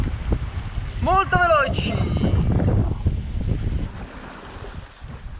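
Wind and waves rush around a racing sailboat in strong wind, a steady broadband roar with a close voice talking over it for most of the clip.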